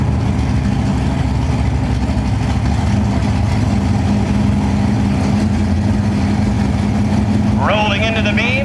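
Camaro drag race car engine at a drag strip, a loud continuous low droning roar that stays steady throughout, with a brief higher whine near the end.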